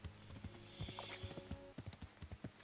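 Galloping horse hooves in the medieval game Kingdom Come: Deliverance, a steady rapid clip-clop rhythm with a brief whinny, fairly close, over a soft ambient background with no talking.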